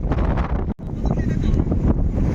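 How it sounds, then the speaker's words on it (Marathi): Strong wind on a mountain trek near Lingana buffets the microphone with loud, continuous gusty rumble, briefly cutting out once. "हवा फुल आहे."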